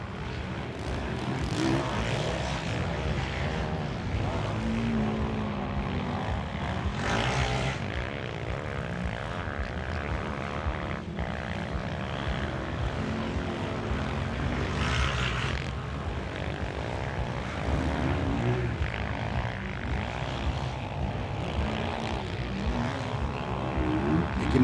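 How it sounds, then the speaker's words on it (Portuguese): A Yamaha Banshee 350 twin-cylinder two-stroke quad races on sand at Monte Gordo, its buzzing engine roar loud and sustained throughout, swelling and easing as the throttle changes. "motor a dois tempos, um Yama Banshee, já é objeto raro nas corridas, o 350, dois cilindros a dois tempos da Yama"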